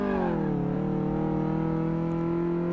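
The BMW Isetta's small engine in Car Mechanic 2018 revs smoothly, its tone dipping briefly and then holding steady. The sound is loud, close and continuous throughout, with no talk.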